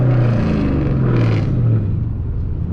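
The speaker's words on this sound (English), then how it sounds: "So this is, all right, now I'm a downshift for you guys here." A Dodge Challenger with a 6-speed manual gearbox revs through a downshift: a loud, close, droning engine note whose pitch wavers and shifts before settling, with no talking.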